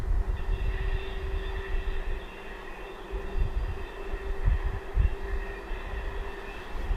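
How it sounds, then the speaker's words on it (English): A long freight train hauled by a blue IR locomotive passes in the background of a frozen-lake ice-fishing spot, a steady low rumble with a faint sustained whine and occasional thumps. "train in the background. The IR, the blue one"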